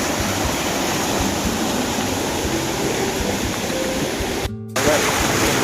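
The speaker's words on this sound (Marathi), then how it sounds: "बघा किती पाणी वाहते, भरपूरच पाणी वाहते" A river runs high and fast in heavy rain during freshwater crab catching: a loud, steady broadband rush of water that cuts out briefly near the end, then resumes.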